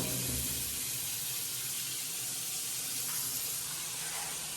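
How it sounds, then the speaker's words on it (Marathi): Very hot water runs from a tap in a steady, close stream, an even hissing flow that continues throughout. "पाणीचा फ्लो बघा पाणी खूप तापलेलं आहे म्हणून जरासं सोडलेलं आहे पाणी"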